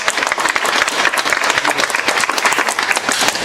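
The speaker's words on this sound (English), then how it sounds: "Everyone give a round of applause." Audience applause for panelists at a panel talk on helping women entrepreneurs in Madison, a dense, steady burst of many hands clapping close to the microphone, with no voices over it.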